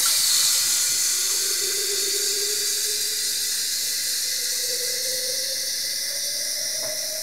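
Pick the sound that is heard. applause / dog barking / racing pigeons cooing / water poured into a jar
water poured into a jar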